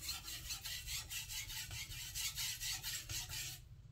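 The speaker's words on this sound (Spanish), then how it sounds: "¿Cómo se siente afilar sobre esta piedra de grano 2000?" A Yoshikane gyuto knife of SKD12 steel is drawn across a 2000 grit whetstone in steady rhythmic rasping strokes, close and moderately loud, about a dozen passes ending abruptly near the end.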